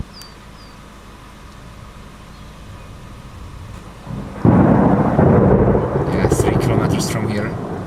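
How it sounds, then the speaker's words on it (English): Thunder rumbles through heavy rain during a strong Florida storm, seen from a high vantage point, with a steady rain hiss that swells into a loud, sustained roll of thunder partway through. "must be very strong storm, very strong rain"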